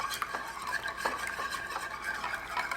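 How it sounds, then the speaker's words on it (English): Close, steady stirring of a buttermilk wet mix for pork ribs in a bowl, with repeated scraping and clinking of a utensil against the sides in an uneven rhythm, moderately loud and with no talking. "Just give that a good mix."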